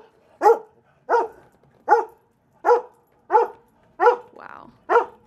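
A dog barks steadily outdoors on a windy day, seven loud single barks spaced about a second apart, with a faint whine between the last two.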